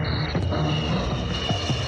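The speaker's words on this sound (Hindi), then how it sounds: "हवाई जहाज ऐसे उड़ेगा" Recorded airplane engine noise plays from a tape recorder in a film scene, a steady droning hum with a faint whine, continuous and fairly loud over its short length.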